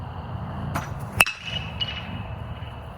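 A BBCOR baseball bat, the 2024 Easton Split, strikes a ball with one sharp metallic ping near the middle, whose bright ring fades quickly over a steady low background rumble.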